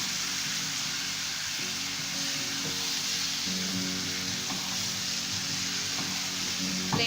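Fish frying in a pan over a high flame gives a dense, continuous hissing sizzle like heavy rain, with occasional faint utensil knocks underneath, close and steady throughout.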